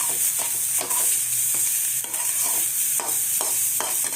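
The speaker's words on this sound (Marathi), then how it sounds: "आता थोडंसं हलवून घेऊ मिक्स करून घेऊया जरा" Paneer roll filling with ground green chili stirred in a hot pan: a steady bright sizzle throughout, broken by repeated rhythmic scraping strokes of a spoon, close and clear with no talking.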